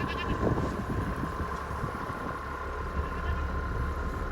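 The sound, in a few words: goats bleating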